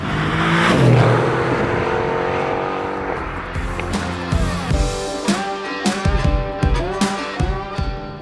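A Mercedes-AMG GTR with its 4-litre twin-turbo V8 is driven hard, opening with a loud surge and tyre squeal, then climbing and falling through rapid rev changes and gear shifts, close and forceful throughout.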